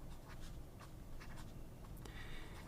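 A Pelikan M1000 fountain pen with a large 18-karat nib writes on paper, giving a quiet, steady scratching with short strokes heard up close.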